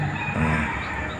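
A rooster crows in one loud, drawn-out call close by, with other fowl clucking faintly in the background.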